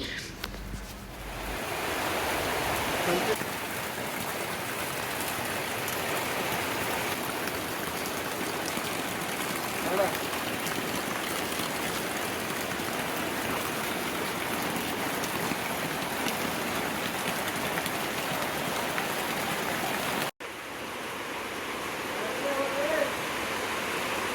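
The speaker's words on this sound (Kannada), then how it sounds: "ಬೆಳಿಗ್ಗೆನೆ ಮಳೆ ತುಂಬಾ ಜೋರಾಗಿ ಬರ್ತಾ ಇದೆ" Dense, steady roar of heavy rain pouring down continuously, loud and close, briefly cut off near the end before resuming.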